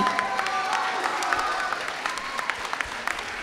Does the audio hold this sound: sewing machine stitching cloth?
no